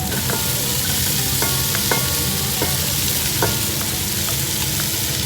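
Onion for pork sinigang fries loudly in a pan, a thick continuous sizzle with rhythmic scraping strokes of a spatula stirring through it, close and steady with no talking.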